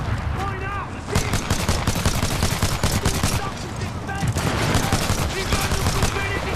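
Sustained gunfire from the Titanfall video game, dense rapid bursts of shots crackling loudly and almost continuously throughout, with brief voice fragments mixed into the battle noise.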